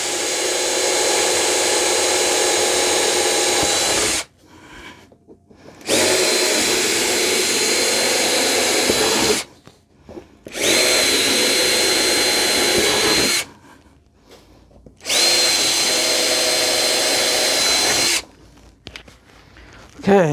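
A power drill whines loudly in four long bursts of a few seconds each, separated by short quiet pauses, close to the listener.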